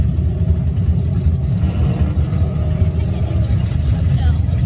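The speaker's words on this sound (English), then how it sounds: "Oh, we got burnouts here." Hot rod cars doing burnouts in a burnout area at the Hot Rod Power Tour, a steady loud engine roar with revving and tire noise throughout, with crowd voices mixed in.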